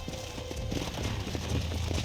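Horse hooves clop at a steady trot in Red Dead Redemption, a run of repeated soft beats against a wide rushing background that continues without pause.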